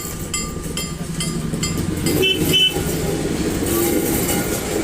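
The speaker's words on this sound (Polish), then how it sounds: "Tak, to jest pociąg, któryśmy przyjechali, przejechaliśmy z Wrocław do Kołobrzeg." A long passenger train on the Wrocław to Kołobrzeg route rolls past nearby, with a steady loud rumble and rhythmic wheel clacks throughout and brief metallic squeals.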